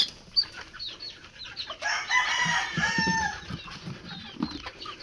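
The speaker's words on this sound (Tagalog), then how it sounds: "Ay, naglabasan na ang mga manok." Chickens on a small mini-farm cluck and flap their wings close by while a rooster lets out a long crow in the middle, with scattered short clucks before and after.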